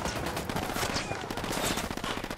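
Rapid automatic gunfire rattles through a firefight in Ghost Recon Wildlands, a dense burst of overlapping shots lasting a couple of seconds, loud and continuous with no pauses.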